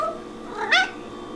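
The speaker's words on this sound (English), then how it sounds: "she is meowing all over the place" A pet cat gives a single short, rising meow up close in a quiet indoor room.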